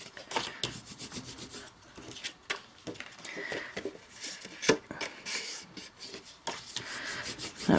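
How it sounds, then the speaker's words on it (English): Scored paper fold lines for a 6x6 mini album being burnished: close, fairly quiet rubbing strokes in an uneven run, with a few sharper scrapes along the way and no talking. "fold all your score lines and burnish"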